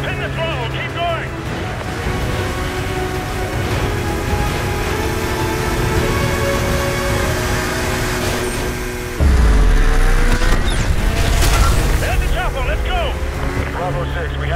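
Vehicle running at full throttle in Call of Duty Modern Warfare 2 Remastered, a steady loud engine drone with a louder surge partway through, and voices talking over it.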